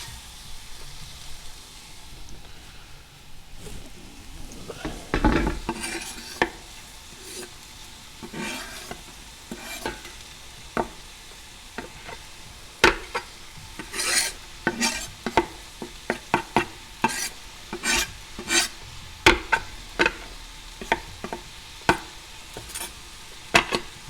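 Onions fry in a pan while being stirred, with a low sizzle under frequent scraping and clinking strokes of the utensil that grow busier toward the end. The sound is close and moderately loud, and there is no talking.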